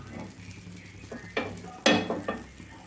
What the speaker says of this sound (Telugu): బటర్ అండి, చిన్న ముక్క అయితే వేస్తున్నాను. ఇట్లా మొత్తం స్ప్రెడ్ చేసుకోవాలి.